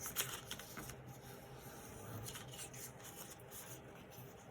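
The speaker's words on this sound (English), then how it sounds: "you're just going to score all the, you know, reinforce the score lines" Paper for a lumenary box being scored along its fold lines, a faint dry scraping and rasping close by, continuous with small irregular ticks.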